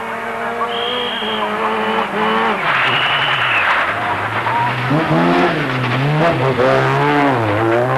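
A Group A Vauxhall Astra GTE 16V rally car runs a stage at Chatsworth House, its engine loud and close, pitching up and down through gear changes and revs while a commentator talks over it.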